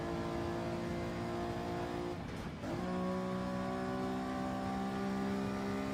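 Steady engine drone of a car tucked into a Lamborghini's slipstream in Gran Turismo 7 at Road Atlanta, a continuous loud hum with a brief dip in pitch near the middle before it climbs back.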